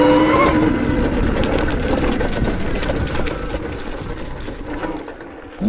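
A Mototec Pro 72-volt, 5000-watt electric dirt bike rides on dirt, with a continuous loud whining motor and chain drone over rough rolling noise that eases slightly toward the end.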